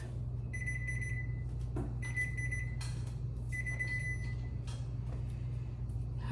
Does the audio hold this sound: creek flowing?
no